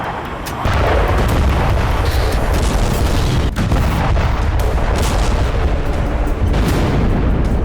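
Loud, continuous booming and crackling blasts with sharp bursts throughout, like a series of large explosions heard at a distance, dense and unbroken, from a Russian missile stockpile blowing up in Tver.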